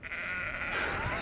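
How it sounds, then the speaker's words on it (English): A sheep in a field gives one long, wavering, nasal bleat that swells slightly toward the end, loud and close, heard alone without talk. "Lots of sheep."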